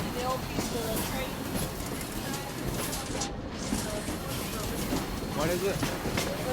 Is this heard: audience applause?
no